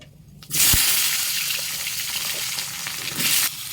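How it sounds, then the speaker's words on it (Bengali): Potatoes drop into hot mustard oil in a wok, setting off a sudden loud, close sizzle that holds steady and surges again near the end, with no talking. "আলু দিতে ভুলে গিয়েছি ওই জন্য আলুটা এখন দিয়ে দিচ্ছি আমরা"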